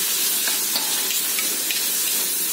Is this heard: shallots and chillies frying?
yes